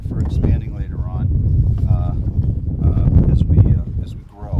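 Heavy wind buffets the microphone throughout, a steady low rumble under someone talking outdoors while installing beehives.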